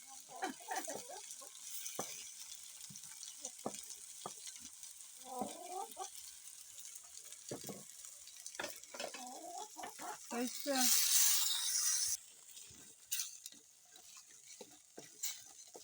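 Tomatoes sizzle and are stirred in a cooking pan in an African village kitchen, giving soft intermittent scraping strokes and a quiet frying hiss, with chickens clucking nearby and a brief louder burst of hissing partway through.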